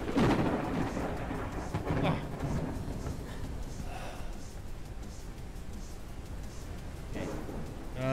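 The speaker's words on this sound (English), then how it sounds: "Literally lightning striking right by me." In a survival video game, lightning strikes close by with heavy, booming thunder. One large crack comes at the start and further rumbling crashes roll through the clip, with a voice talking over them.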